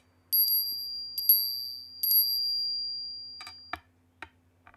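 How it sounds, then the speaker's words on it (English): Altar bell rung three times at a 1950s Catholic Mass celebrated by a bishop, each clear ringing strike sustaining a bright tone, followed by a few fainter clinks near the end, alone without talk. "the thrice rung bell"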